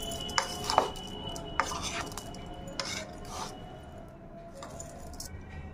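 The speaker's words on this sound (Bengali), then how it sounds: "সব একসাথে ভালো করে মেখে নেব।" Chaat of green peas, spice powder, chopped onion and fried jhuri bhaja being mixed in a bowl, heard as soft, close squelching and a few light clinks of utensil against the dish.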